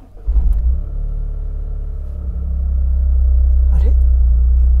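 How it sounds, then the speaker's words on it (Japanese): A Toyota GR Corolla Morizo Edition engine cranks and fires with a loud burst, then settles into a deep, steady rumble that swells slightly as it idles close by, with a brief voice partway through. "じゃあエンジンに火入れますか。"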